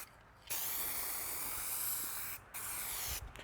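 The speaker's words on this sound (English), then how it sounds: "But mist a nice light coat on it." Spray gun misting a light coat of paint onto the rebuilt bed of a 1989 square body crew cab truck, heard as two close, steady hisses, a long burst and a shorter one, separated by a brief pause.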